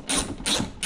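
Ratchet wrench loosening the hood bolts on a 2019 Chevrolet Camaro SS, three bursts of rapid metallic clicking close up, with short pauses between strokes and no talking.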